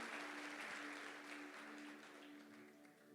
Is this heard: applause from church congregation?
yes